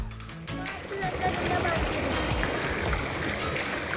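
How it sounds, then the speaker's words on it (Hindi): A small mountain waterfall stream on a bike route from Munsiyari to Dharchula, rushing in a steady broadband wash that runs continuously throughout, with people talking over it near the start. "ये देखिए छोटा सा झरना मिल गया"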